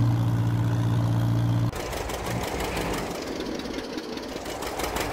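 A tractor engine runs steadily in a farm simulator game, first as a low droning hum and then as a rougher rumbling idle with rhythmic knocking. The sound is moderately loud and continues without any talk.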